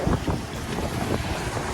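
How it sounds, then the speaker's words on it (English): Steady drone of two boat motors mixed with heavy wind buffeting and water rush, loud and continuous throughout, with no speech. "2 motors that are powering this boat right here"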